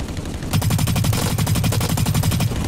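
Rapid automatic gunfire rattles in a shooting video game, a loud, fast burst of evenly spaced shots that starts after a brief pause and runs continuously to the end.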